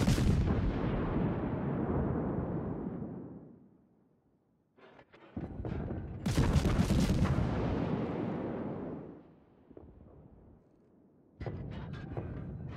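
Heavy naval guns from World of Warships boom in two long rolling blasts, each decaying over several seconds, with a third loud firing near the end; no talking.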